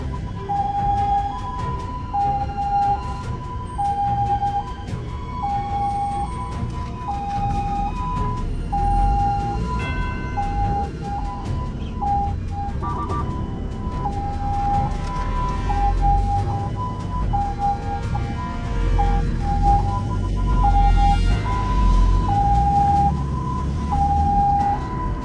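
An ambulance siren wails continuously in a repeating two-tone pattern, loud and steady for the whole stretch over the rumble of traffic on a busy morning road.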